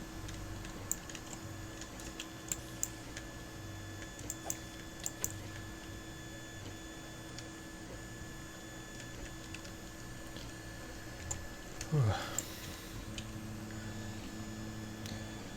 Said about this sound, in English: Printer appears to be behaving a little better.